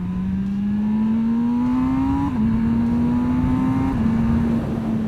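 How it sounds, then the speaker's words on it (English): An MV Agusta Brutale 1000 RR inline-four engine howls as the bike accelerates on the Assen circuit, its tone climbing smoothly through gears with brief dips at shifts, loud and steady under wind noise. "it's the inline four, so the way that it sounds, it's amazing"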